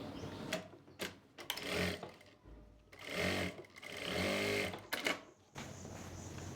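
A sewing machine stitches the waistband of a pair of trousers in short, stop-start bursts, a quick mechanical clatter up close with gaps between runs.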